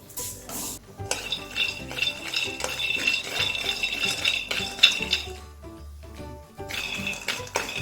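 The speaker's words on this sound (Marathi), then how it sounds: "आता आपण लगेच शेंगदाणे भाजून घेऊया।" Peanuts dry roasting in a pan, stirred steadily with a metal spoon: soft, continuous scraping and light clinking against the pan, close and fairly quiet, with no talk.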